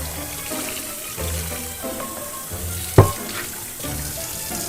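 Tap water runs steadily over a cast iron pan from a Walmart as it is rinsed in a sink, a close, continuous splashing with one sharp knock of metal partway through.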